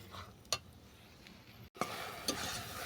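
Malpua simmering in sugar or jaggery syrup, a soft bubbling sizzle with a couple of brief stirring scrapes, faint at first and fuller after a short break.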